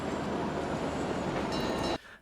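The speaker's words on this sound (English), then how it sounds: "here comes the train." A train in a Splatoon 3 trailer rumbles past loudly and steadily with a broad rushing roar, then cuts off abruptly near the end.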